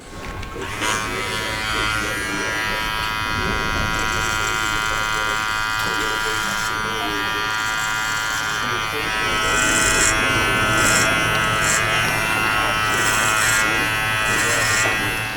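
An electric hair clipper with no guard buzzes steadily at close range during a barbershop haircut, its hum continuous throughout, with talking heard over it at times.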